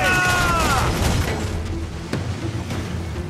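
A deep ship's cannon boom rumbles and fades, followed by a second sharp blast, with a faint whooshing sweep at the start, in the video game Assassin's Creed IV Black Flag.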